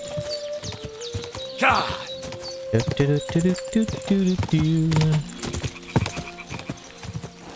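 Hooves clip-clop rapidly as a horse gallops in the video game Kingdom Come: Deliverance II, with a whinny partway through and someone talking over the rhythmic hoofbeats.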